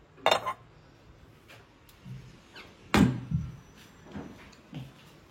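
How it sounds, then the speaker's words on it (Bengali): Washed, dried cups being put away in a home kitchen, giving a few separate clinks and knocks of crockery and a cupboard sound, with sharp transients near the start and middle and softer ones later, alone without speech. "চলো কাপগুলো এবার তুলে দিই"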